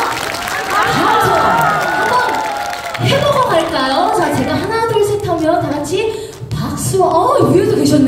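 Concert audience at a Uisong Nakdong River cultural festival celebration show claps and cheers loudly and steadily, a dense crowd roar with shouts rising and falling throughout.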